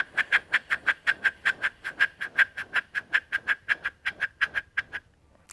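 Recorder played by blowing across its window to imitate flapping bird wings: about twenty-five rapid, even breathy pulses in a steady rhythm, close and clear, stopping just before the end.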